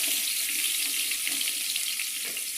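Sliced onions hiss and sizzle steadily in hot dalda and ghee, cooked for Christmas chicken biryani: a dense, even frying crackle that stays loud and unbroken, with no voices.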